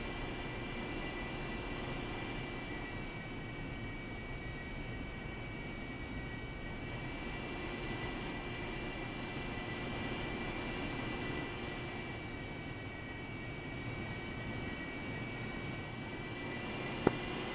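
Jet aircraft taxiing in the DCS World flight simulator: a continuous, even engine whine and rumble holding steady throughout, with no speech over it.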